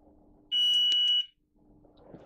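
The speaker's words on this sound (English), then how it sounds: "By placing the multimeter lead onto the earth wire and then onto the earth bar of the plug, we can see and hear that there's a continuous circuit" A multimeter's continuity beep sounds while its leads touch a plug's earth wire and earth bar: a single steady electronic tone lasting under a second, loud and clear over a quiet background.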